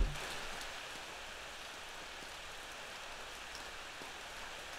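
Steady rain in the Ao Oni horror video game, a continuous even hiss of falling drops across the whole stretch with no voices.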